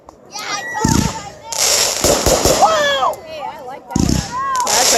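A Cataclysm 500g Dragon Blade firework cake of 30 shots fires a rapid series of loud cracks and bursts with whistling and crackling tails, heard outdoors at night with people talking between shots.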